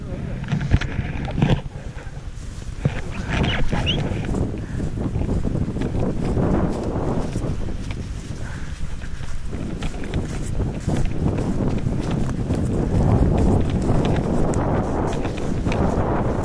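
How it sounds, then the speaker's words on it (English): Strong winter wind on a Peak District moorland buffets the microphone with loud, continuous low rumbling and gusts, and a voice is heard briefly through it. "it's so windy"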